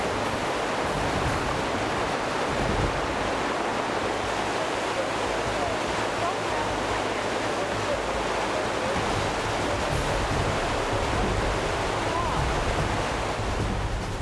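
LeHardy Rapids on the Yellowstone River roar in a steady, dense rush of white water, loud and unbroken throughout, with no voices.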